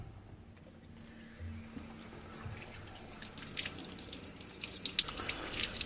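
Running water from a tap splashes and trickles steadily as a shirt with hardened yellow armpit stains is rinsed, rising and spattering more toward the end, with no talk.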